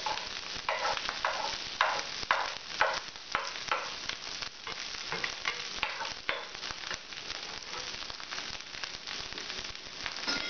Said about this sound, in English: I'm going to add my eggs